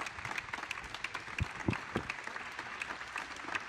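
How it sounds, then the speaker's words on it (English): An audience at a post-flight press conference for Blue Origin's first human flight applauds the newly minted astronauts with a fairly close, continuous round of clapping and scattered louder claps. "Let's give another round of applause to our amazing"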